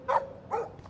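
A dog in the Life Is Strange video game barks twice in close succession, sharp and fairly near, with a fainter third yip trailing off after them.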